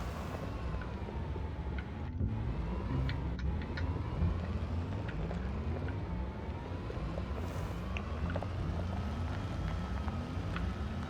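A vehicle driving in Astroneer, a steady low engine hum with rising and falling pitch that runs without pause, fairly quiet and close, no talk over it.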